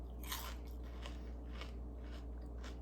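Crunchy air-fried beef tendon snack is bitten and chewed close up, a series of crisp crackling crunches in a steady rhythm of about five bites, quiet but distinct, with no talking.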